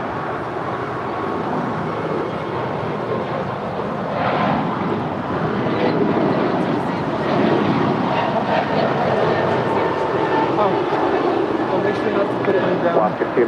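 A jet airliner approaches and lands on runway 25 left at LAX, a broad, steady roar that swells slightly in the middle and holds loud to the end. Radio talk runs over it.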